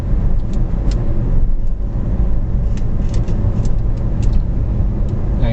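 A car driving slowly around a park at Twin Lakes in Central Florida, a steady close interior engine and road hum with small ticking clicks scattered throughout, continuous and moderately loud, no talk.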